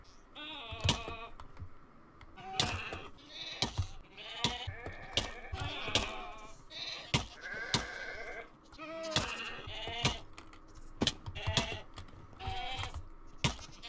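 Several Minecraft goats bleat again and again in short, nasal calls spread across the stretch, fairly close and quiet, with faint clicking in the gaps between them.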